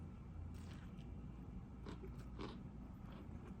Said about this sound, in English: Crunch of the chickens there also.